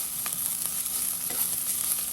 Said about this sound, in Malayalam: നമുക്കിനി ഇതൊന്നുകൂടെ ഇളക്കിയിടാം.